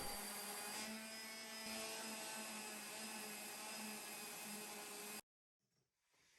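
Power sander runs over glued wooden plugs on a wooden kids' climbing triangle, a steady whining hum with faint rasping held for about five seconds before stopping abruptly into near silence.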